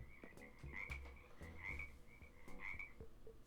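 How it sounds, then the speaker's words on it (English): Frogs croak in Animal Crossing: New Horizons, a steady run of repeated game croaks pulsing every half second or so, fairly quiet but continuous with no talk over them. "The frogs have arrived."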